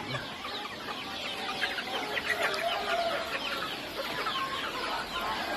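Healthy young chickens about three months old cluck and chatter on a farm, many birds layered together at a moderate distance in a continuous busy flock noise.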